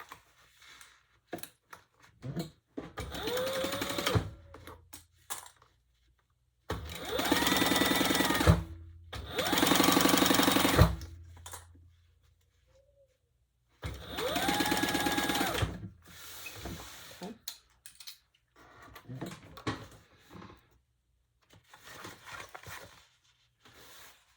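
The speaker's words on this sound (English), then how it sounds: "let's just stitch that at 1/8 of an inch" A sewing machine stitches leather at an eighth-inch seam allowance in several loud bursts of rapid whirring, separated by pauses and light handling clicks.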